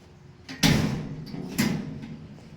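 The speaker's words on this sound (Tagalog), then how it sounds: "Ay, nakabukas ang pinto. Isara mo." A house door being shut: two loud close bangs about a second apart, each with a rattling thump that rings and fades slowly into the room, with no voices over it.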